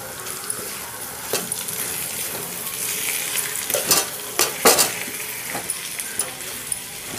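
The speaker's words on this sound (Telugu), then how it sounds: "మనం వెల్లుల్లిపాయలు అలాగే అల్లం ముక్కలు కొంచెం యాడ్ చేసేసుకోవాలి. వాటిని బాగా ఇలా మనం కలుపుకొని" Garlic and ginger pieces stirred in a hot pan, a steady sizzle broken by sharp scraping clinks of the spoon against the metal, clustered near the middle of the clip and close by.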